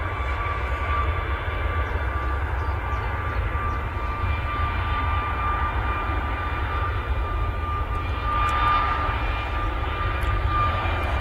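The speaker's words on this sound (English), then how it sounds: "It's got an aircraft right behind it though, really close, about to touch down behind this Max." An aircraft lands at Manchester Airport close behind a Boeing 737 Max, heard as a steady, distant engine roar with a faint whine over the airport's constant low rumble.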